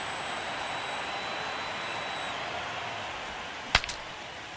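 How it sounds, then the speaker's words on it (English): A sharp broken-bat crack in the MLB The Show 25 baseball video game, one bright snap with a couple of small echoes near the end, over a steady stadium crowd murmur. "Broken bat, and it's popped up."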